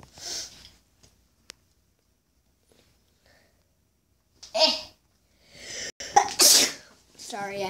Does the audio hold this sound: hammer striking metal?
no